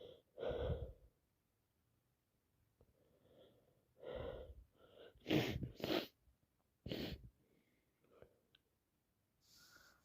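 A person with a cold sneezes repeatedly, several sharp bursts with sniffs and wheezy breaths in between, close and fairly quiet in an otherwise silent room.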